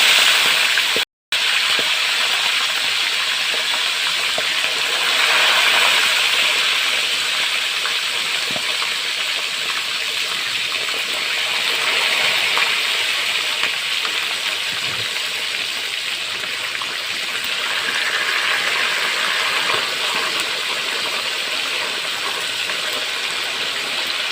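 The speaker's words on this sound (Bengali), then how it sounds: "মাছের মাথাগুলি ভেজে নিচ্ছি।" Catla fish heads fry in a pan for a fish-head chhechra curry, giving a steady, fairly loud hiss and crackle of hot oil that runs on without a break and without any talk.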